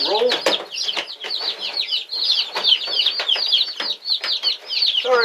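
Chicks in a home brooder built from a tote give dense, continuous high peeping and chirping, close and fairly loud throughout, with a few scraping and rustling sounds mixed in.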